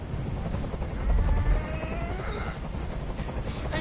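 A helicopter in the Detroit video game hovers nearby, a continuous rumbling rotor drone with chopping low thuds under faint background sounds.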